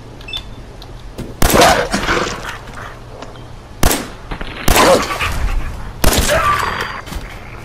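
Gunfire in Fallout 4, loud bursts of rapid shots in three separate volleys with short quiet gaps between them, close and sharp.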